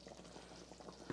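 Cream poured into a container at a family homestead, a soft continuous liquid gurgle and trickle, faint and close, with no talk over it.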